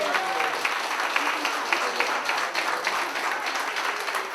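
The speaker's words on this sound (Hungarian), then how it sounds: "És egy hatalmas tapsot, úgy gondolom, megérdemel az ifjú pár." Wedding guests give the newlyweds a steady round of applause at the reception. The clapping is dense and even throughout, with a voice faintly audible at the start.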